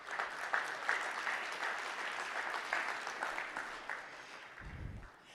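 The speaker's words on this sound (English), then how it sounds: "So just give them a round of applause in their absence." An audience at an awards ceremony applauds steadily for several seconds, a moderately distant, even wash of clapping that fades out near the end.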